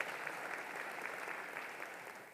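A large crowd at a university commencement ceremony applauds continuously, a soft, even wash of distant clapping sustained throughout without speech.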